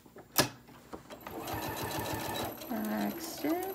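A home sewing machine back stitches through a lunch tote bag in a steady mechanical whir with a few clicks and thumps, close and fairly loud, as someone talks over it.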